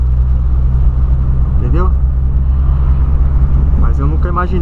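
Volkswagen Golf GTI engine idling with a deep, steady low rumble close by, loud and continuous beneath someone speaking in Portuguese.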